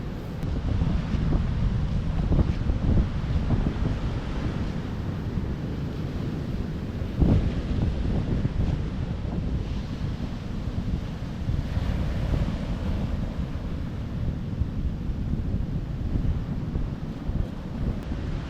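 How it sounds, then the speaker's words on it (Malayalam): Rough, churned-up sea after days of heavy rain, with a continuous roar of surf and breaking waves close by and strong wind buffeting the microphone throughout. "ഇന്ന് കടൽ ഭയങ്കരമായിട്ട് കലങ്ങിയിരിക്കാം"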